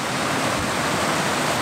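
Steady roaring rush of the Tundavala waterfall in Angola, a dense continuous wash of falling water heard up close with no voices.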